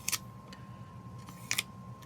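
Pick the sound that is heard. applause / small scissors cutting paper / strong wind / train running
small scissors cutting paper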